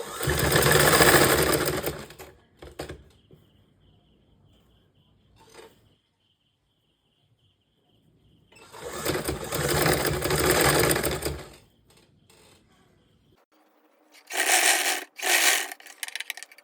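A sewing machine stitches lace onto a crop top in three close, loud bursts of rapid whirring, each separated by pauses, with the last burst broken into short stop-start runs.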